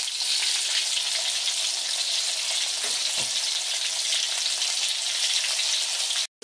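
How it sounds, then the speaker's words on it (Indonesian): Fish frying in very hot oil, seasoned with turmeric, sizzles as a steady, loud, continuous crackle throughout, with one faint low thump near the middle and the hiss cutting off abruptly at the very end. "Sudah benar-benar panas baru masukkan ikannya biar tidak lengket ketika digoreng."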